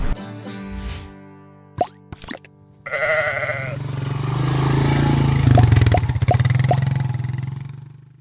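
Sheep bleat at a farm, several loud calls overlapping a steady low engine drone and a few sharp plopping knocks.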